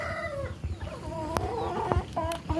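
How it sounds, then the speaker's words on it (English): An angry hen squawks and clucks in a string of agitated, fairly close calls, sharp cries rising over low background rumble. "that hen is very angry because I shoot her away and she's making noises, all kinds of noises"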